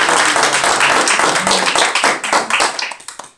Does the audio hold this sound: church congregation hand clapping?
yes